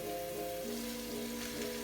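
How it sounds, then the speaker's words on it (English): Steady, close sizzling of onions and mince frying in a pan, a continuous crackling hiss with a faint tonal hum underneath. "Now that the onions are frying, it looks pretty much ready."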